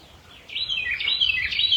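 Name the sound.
birdsong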